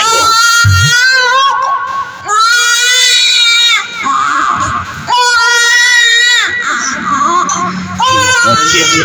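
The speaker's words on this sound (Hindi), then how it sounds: "बच्चे की रोने की आवाज आ रही है" A baby cries somewhere near a river, loud and close: long wailing sobs rise and fall in repeated bursts with brief breaths between them.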